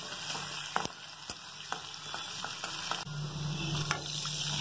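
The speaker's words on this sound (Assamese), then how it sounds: "এই তেলখিনিতে এতিয়া কেইটামান মই পাঁচফোৰণ ফুটাম, কুটা আদা, কুটা নহৰু আৰু জলকীয়া দিলোঁ" Panch phoron spices, chopped ginger, garlic and chillies fry in hot oil, giving a steady close sizzle with sharp intermittent crackles and pops.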